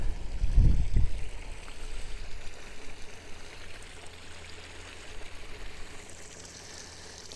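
A small moorland stream runs over peat ground, a steady close rush and trickle of water that stays constant throughout, with a brief low bump at the start.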